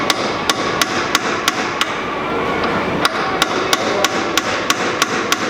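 Repeated metal hammer strikes against a stuck coilover spring perch on the rear of a MK4 Bora wagon with KW coilovers, sharp evenly spaced blows close by, about a dozen in quick succession.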